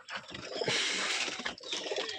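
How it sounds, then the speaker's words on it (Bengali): Pigeons coo in a small pigeon farm, soft throaty calls heard up close amid rustling and shuffling, filling the short moment without any talk. "এই কবুতর,"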